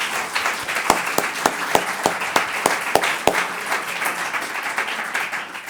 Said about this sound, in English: Just one last round of applause for all of our panellists.